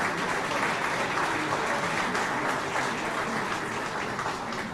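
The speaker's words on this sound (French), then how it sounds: "je demande un applaudissement particulier pour l'ambassadeur et de Chine qui est avec nous" Sustained, dense audience applause fills a ceremony honouring national state-exam laureates, loud and steady from start to finish with no pauses.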